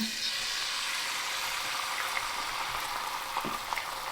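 Beaten eggs with a bit of cream frying in lard in a pan, a steady close sizzle with a few faint pops and clinks, no talking.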